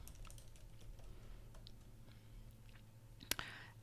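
Soft, rapid tapping of computer keys as text is entered, faint and steady, ending with a sharper click near the end.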